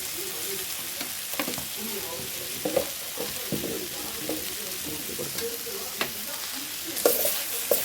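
A spoon stirs ivy gourd stir-fry with chili powder in a hot pan, with a steady close sizzle under repeated scraping and clinking strokes.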